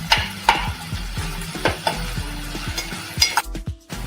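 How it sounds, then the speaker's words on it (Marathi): Finely chopped onion frying in a pan, a steady sizzle broken by repeated scraping and clinking strokes of a spatula stirring against the metal. "आता आपण त्यात टाकणार आहोत बारीक चिरलेला कांदा आता हा आपल्याला चांगला परतून घ्यायचा आहे"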